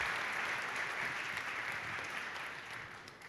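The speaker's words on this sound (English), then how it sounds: "Give her a clap." A church congregation claps together at a Sunday service, a broad steady wash of applause that holds for a few seconds and slowly fades, with no voices over it.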